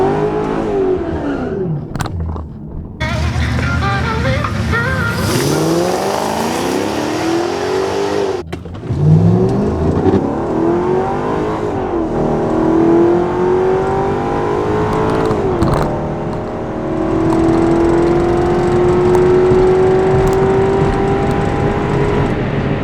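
A car accelerating hard down a quarter-mile drag strip, running 11.6 seconds at 118 mph, its engine note loud and rising through several gear changes with short breaks between them, with no talk over it.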